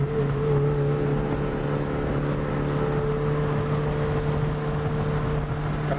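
Car engine warming up, a steady low idle hum with a faint whine running evenly throughout, moderately loud with no voices.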